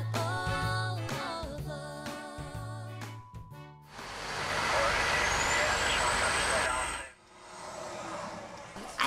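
A truck pulls out through a truck exit, with a hissing air-brake release and a rising engine rumble that swells and then drops away.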